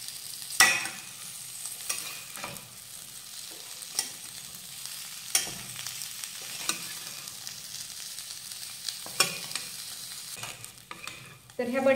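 Boiled, peeled potato chunks being stirred into sizzling spices for a Maharashtrian batata bhaji, a low steady fry with repeated spoon scrapes and knocks against the pan at irregular intervals, no one speaking.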